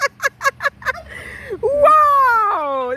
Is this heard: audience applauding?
no